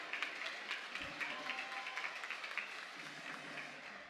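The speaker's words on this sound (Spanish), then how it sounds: "Fuerte el aplauso para la profesora Elda de Vadillo." At a regional oratory final, an audience claps for a teacher, a soft, steady patter of many hands heard from a distance across the whole stretch.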